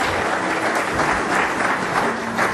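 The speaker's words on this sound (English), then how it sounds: "Let's give them a round of applause." A large audience applauds loudly and continuously after a presentation, a thick sustained roar of many hands clapping with no break.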